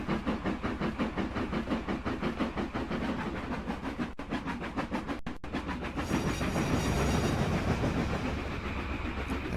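A diesel locomotive in Trainz Railroad Simulator runs steadily with a rhythmic chugging engine beat and faint rail clatter, shifting into a broader, louder rumble near the end, with no voices.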